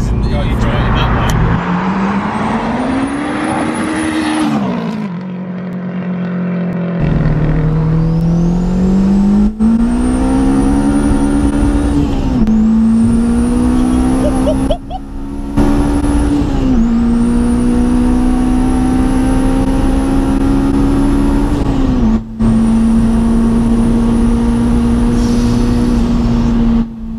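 A 430 bhp K20-engined turbo Mitsubishi Colt accelerates hard through the gears. The loud engine note climbs in repeated rising sweeps, with brief dips at each upshift, and voices are faintly present under the engine.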